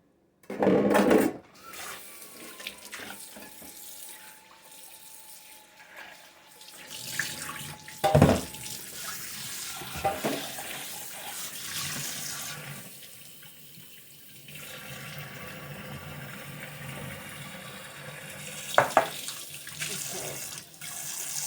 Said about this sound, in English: Now you want to wash your hands with a lot of soap and hot water.